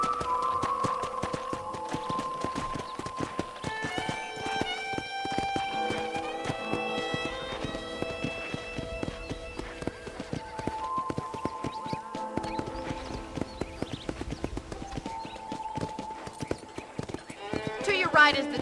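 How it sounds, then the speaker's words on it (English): Horse hooves clip-clop at a steady walking pace in Red Dead Redemption, a soft rhythmic tapping under sustained melodic music, with a brief flourish near the end. "let's see if you can still ride a horse"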